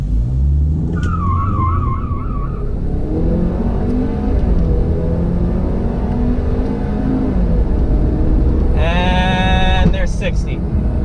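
A 2020 Ford Fusion Titanium launches hard from a brake-torque start, its engine revving and climbing under a near continuous drone, with tire squeal toward the end and people talking over it.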